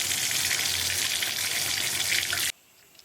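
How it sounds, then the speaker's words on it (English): Running water from a tap pours over hair being wetted for bleaching, a steady close rushing hiss that cuts off abruptly near the end. "So I'm going to get my hair wet and I will be right back."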